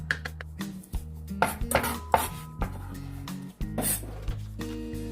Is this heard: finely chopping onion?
yes